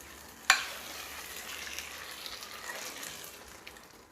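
Jackfruit curry is stirred in a pot, with a sharp knock of the spoon at the start, then a gentle bubbling sizzle and faint scraping that slowly fades.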